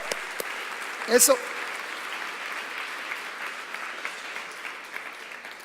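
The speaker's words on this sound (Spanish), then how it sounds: "Vamos a aplaudir todos." Audience applause fills a church-style gathering, a steady wash of clapping from many hands running throughout, with a brief spoken word near the start.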